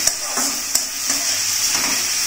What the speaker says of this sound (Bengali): আলুটা একটু নাড়িয়ে নিচ্ছি